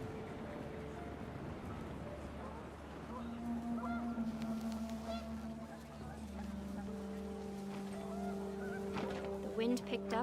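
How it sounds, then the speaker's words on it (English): Panicked geese honk in a windy scene of the video game What Remains of Edith Finch, scattered honks over a low steady drone and gusting wind, with speech faintly present. "The wind picked up and panicked geese appeared and quickly went."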